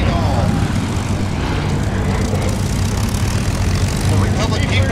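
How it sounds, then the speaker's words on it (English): A Republic P-47 Thunderbolt's propeller engine roars loud and near at the Chino Airshow, a dense continuous drone with wind-like rushing and crowd noise mixed in throughout. "The Republic P-47 Thunderbolt, very rugged cheap."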